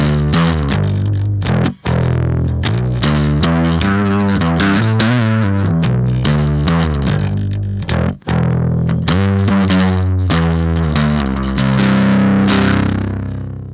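Bass guitar played through a Tallon Electric Dual Drive pedal, tone at maximum and drive near 40%: a thick, gritty, distorted riff of steady driving notes, loud and close, with two brief cutoffs and no talk.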